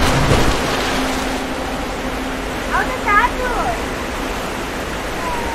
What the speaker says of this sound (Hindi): पानी पे पानी भरे जा रहा है भरे जा रहा है भरे जा रहा है